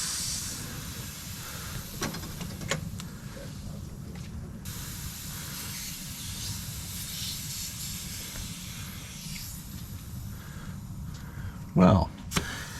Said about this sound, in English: This old crappy silicone flange around the blow-off valve is leaking quite a bit of air